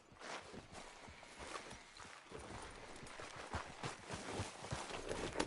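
Horse hooves in Red Dead Redemption 2 clip-clop in a steady walking rhythm. The hoofbeats are fairly close and repeat evenly for several seconds over a soft outdoor background.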